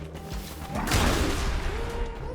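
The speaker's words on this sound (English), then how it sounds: "I was just trying to get away from the explosions." Explosions in the Cult of the Lamb video game: a dense burst of booming, crashing blasts swells in the middle and rolls on under a busy game soundtrack, loud and close.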